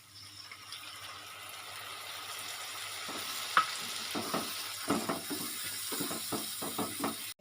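Coconut milk goes into a pan of prawn masala that has been frying in oil; a soft steady sizzle builds into louder bubbling and scraping stirs, close but fairly quiet.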